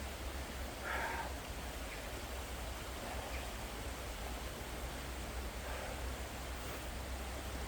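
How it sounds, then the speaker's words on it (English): A river flowing through Hope Valley in the Peak District makes a steady, soft, even rush of water with no clear splashes, faint and continuous throughout. "Oh, this river, just look at it, it's lush."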